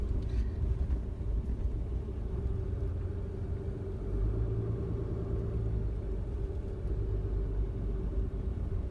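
Road traffic passes near a wooded campsite at Faver Dykes State Park, a faint, steady low rumble of engines heard from a distance with no talking.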